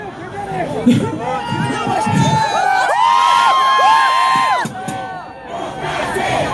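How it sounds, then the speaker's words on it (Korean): A large festival crowd at a university event cheers and screams loudly, high-pitched whoops and shouts swelling together for several seconds, then easing off before rising again. "이렇게 환호를 해주시고"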